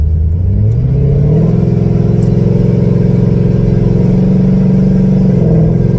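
A C6 Corvette accelerates on a highway in sport mode, its engine a loud, close, continuous drone that climbs gradually in pitch with a brief shift near the start, with no voices.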